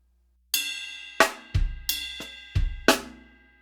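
One bar of a songo groove on a drum kit: six sharp, close strikes in a syncopated rhythm, some with a deep low thump beneath, each ringing briefly before the next, with no talking.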